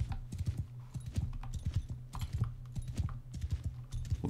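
A rider approaches on horseback in Mount & Blade II: Bannerlord, with a steady clip-clop of hooves beating in an even, repeating rhythm at moderate volume, alone, with no talk.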